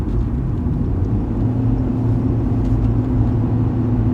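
A Rover 45 with a CVT gearbox held at high revs in sport mode, heard as a steady, loud droning engine rumble from inside the car for several seconds without talking.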